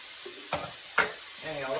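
Ground beef browning in a pan for a cowboy dinner gives off a quiet, steady sizzle, with a couple of sharp clinks from stirring cutting through it.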